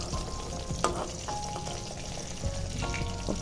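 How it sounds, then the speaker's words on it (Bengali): Eggplant sizzling steadily in a hot frying pan, a continuous close crackle with occasional stirring clinks and scrapes, no voices. "বেগুনটা ফ্রাই করব।"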